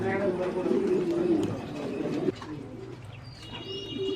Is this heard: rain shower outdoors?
no